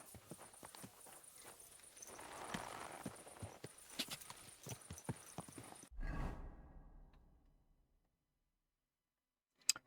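Horse mount in the video game Monster Hunter Wilds, with hooves clip-clopping in a steady rhythm over a busy game background for several seconds, then a brief whoosh before the sound drops away to near silence.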